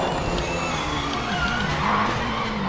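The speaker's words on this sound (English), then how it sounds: "there's the car drifting to the left" A race car drifts to the left in the Project Motor Racing video game, tires skidding and squealing under a steady, loud engine roar.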